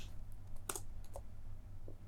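A handful of quick keystrokes on a computer keyboard, crisp and close but quiet, over a low steady background hum.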